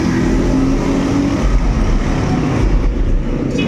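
A Honda TMX155 motorcycle engine with a ticking fault runs close by, a loud, steady, rough mechanical drone that holds throughout without pause.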